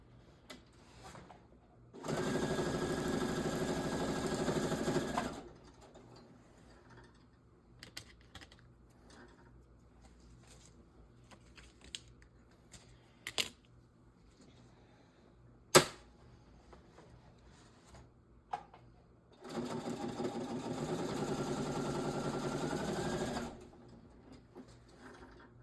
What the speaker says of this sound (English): now let me sew these across the top